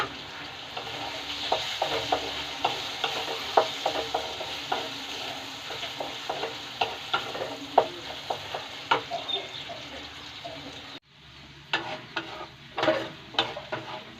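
Potatoes and egg yolk frying in a pan for chow mein, with a steady soft sizzle and regular spoon taps and scrapes as they are stirred, close and fairly quiet, briefly dropping out near the end.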